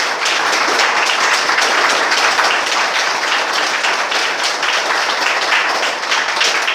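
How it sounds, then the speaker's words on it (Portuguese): Applause from the congregation during a church sermon, a steady, dense wash of clapping from many hands that fills the space without a break. "Vamos dar um aplauso, gente, para essa palavra aqui de Deus, bem forte"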